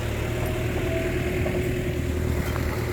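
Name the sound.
tractor engine running while watering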